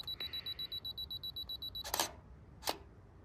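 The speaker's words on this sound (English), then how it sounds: "I've got my camera on a timer so it doesn't wobble whilst I'm trying to take a photo." A camera self-timer, used for astrophotography of the Moon, Jupiter and Mars through a 2x Barlow lens, beeps in a quick regular series for about two seconds, followed by two sharp shutter clicks, close and fairly quiet.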